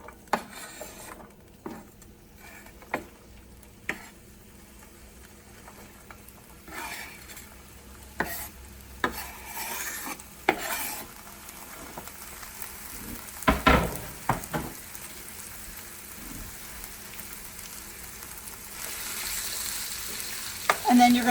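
Vegetables for chicken fajita pasta fry in a pan, a steady sizzling hiss broken by scattered clinks and scrapes of a utensil against the pan, with a few louder clattering bursts along the way.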